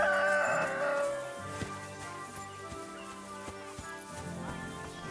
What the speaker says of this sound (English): Oh my God, these poor chickens.